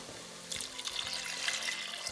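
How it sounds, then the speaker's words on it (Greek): Water and oat milk pour into a cooking pot in a continuous splashing stream, close and moderately loud, with no talk. "Μετά από λίγα λεπτά ρίχνουμε το νερό, το φυτικό γάλα, εγώ χρησιμοποίησα βρώμης και τα μακαρόνια."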